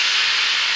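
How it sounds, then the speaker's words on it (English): A steam iron blasts a shot of steam into a slouch hat, producing a steady, loud, close hiss with no speech. "we'll use the steam iron to give a shot of steam into those"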